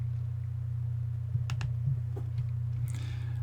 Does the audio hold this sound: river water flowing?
no